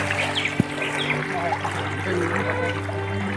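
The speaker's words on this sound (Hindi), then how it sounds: "पानी का बहाव काफ़ी तेज़ है" Fast-flowing floodwater rushes through Jawainiya village as a steady broadband roar, with a single sharp knock early on and faint bird calls mixed into the wash.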